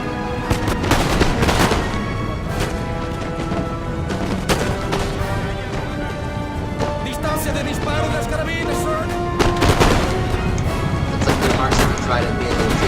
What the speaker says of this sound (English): firing back and forth.